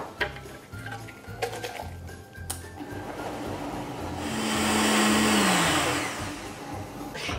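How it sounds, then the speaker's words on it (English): A countertop blender purees cooked cauliflower in cream, with clicks and ticking before a motor whir rises and swells near the middle, then fades. "Drop it into our blender."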